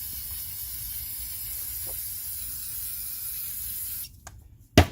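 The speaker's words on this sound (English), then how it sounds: "We're going to spray around the area here." Aerosol cleaner hisses steadily around a car's throttle body for about four seconds, close and even, then cuts off into quiet handling noises and a sharp knock at the end.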